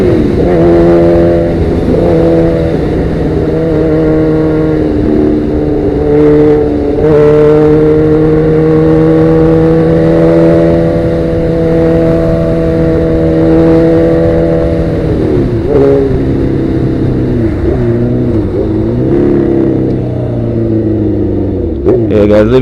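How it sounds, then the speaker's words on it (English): Sportbike fitted with a Danmoto XG-1 exhaust, the engine revving loudly and close by, sustained throttle blips with rising and falling pitch, some talk mixed in. "let me give you a little walk around so you can hear the sound of them pipes."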